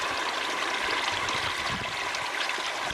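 Water flows continuously out of a homemade pond filter and down into a garden waterfall, a steady close rushing and splashing with no pauses.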